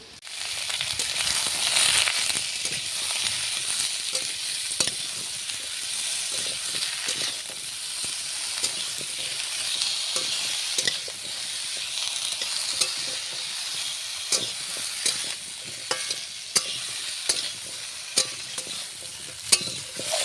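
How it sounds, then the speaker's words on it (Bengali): Red lentils and diced raw pumpkin sizzle and crackle steadily in a pan, with frequent stirring scrapes and clicks throughout; close and moderately loud, with no talking. "এই যে ডালের সঙ্গে কুমড়োটাকেও আমি হালকা করে ভেজে নেব একসঙ্গে।"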